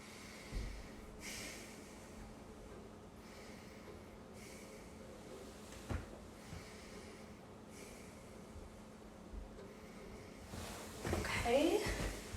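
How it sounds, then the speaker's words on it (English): During a head-to-toe physical assessment, a patient breathes in and out slowly several times, each breath a soft, faint, airy rush in a quiet room, ending with a brief rustling noise. "And then I'm going to ask you to breathe in and breathe out."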